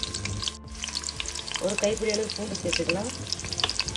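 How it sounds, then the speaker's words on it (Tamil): Small onions and garlic sauté in oil for a Tirunelveli sodhi. The frying crackles loudly nearby, and a short run of spatula scrapes and stirring strokes comes through the middle of the sizzle. "சின்ன வெங்காயம் போட்டு எண்ணெயில் வதக்கிக்கலாம்"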